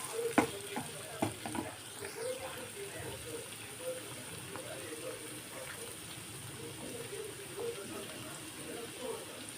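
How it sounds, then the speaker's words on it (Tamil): Small onions (shallots) fry in a pan for a prawn thokku, giving a steady close sizzle with stirring scrapes and a few sharp utensil clanks near the start. "நம்ம இதை நல்லா ஃப்ரை பண்ணி எடுத்துக்கலாம்"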